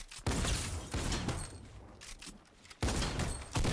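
Bursts of gunfire from a video game, with rapid loud volleys, a lull, then another burst near the end.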